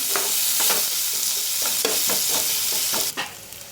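Chopped onion tempered with five-spice sizzles steadily in hot oil in a pan, with a few scraping stirs and clicks of a spoon against the metal, close and fairly loud, no talking.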